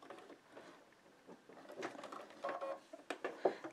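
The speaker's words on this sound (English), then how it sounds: "I'm just going to sew all the way across" A sewing machine with a size 14 needle stitches slowly across an embroidered rope bowl, with quiet irregular bursts of mechanical whirring and clicking that grow louder toward the end.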